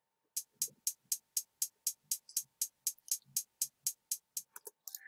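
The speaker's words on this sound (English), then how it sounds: "This is one hi-hat sound right here." Hi-hat drum sample played as a steady run of about eighteen crisp, bright ticks at an even quick pace, fairly faint and isolated, with a short muffled blip at the end.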